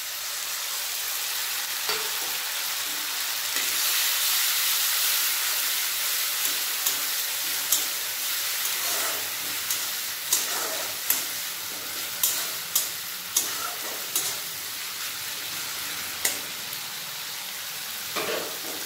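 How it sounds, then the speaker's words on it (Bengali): Onion, garlic and tomato paste frying in a pan for a mustard rohu fish curry, a steady loud sizzle with repeated light clicks of stirring over nearly twenty seconds, no talk. "পেঁয়াজ রসুন ভালোভাবে ভেজে নিয়েছি, এর মধ্যে দিয়ে দেবো টমেটো পেস্ট।"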